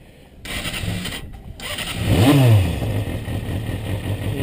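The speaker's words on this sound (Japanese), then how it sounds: "試しにちょっとエンジンだけ" A Kawasaki Balius 250cc motorcycle engine cranks and catches, then revs up sharply before settling into a steady idle in a parking lot, loud and close.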